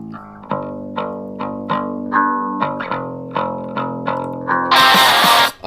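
A soloed GarageBand bass line with E-bass EQ and a noise gate at -30 plays a run of plucked, effect-heavy notes in a steady rhythm, ending in a loud, noisy distorted burst.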